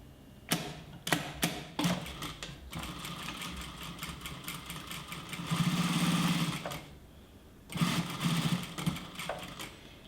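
A sewing machine stitches wide bias binding onto a multipurpose fabric wallet, running in several rapid bursts of different lengths separated by short pauses, close and fairly quiet.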